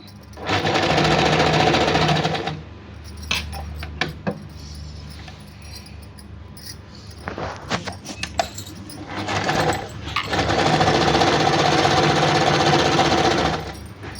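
A sewing machine stitches along a folded saree in two loud, steady bursts of rapid clatter, with a quieter stretch of handling and clicks between them, close by.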